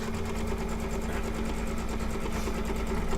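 A sewing machine stitches down patchwork quilt pieces with batting, a steady, fast mechanical whir with a constant hum running close and loud throughout.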